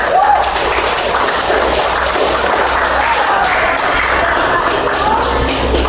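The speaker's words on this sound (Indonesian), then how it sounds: "oke tepuk tangan dulu ya Pak Sufi." Audience clapping in an Indonesian sociology teacher-training class, a dense and fairly loud burst of hand claps that runs steadily throughout, with some light shuffling and thumps mixed in.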